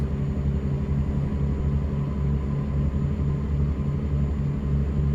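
A bus engine in the video game Night Bus roars with a steady low rumble and strained tonal whine as the vehicle speeds up, loud and continuous throughout with no talking.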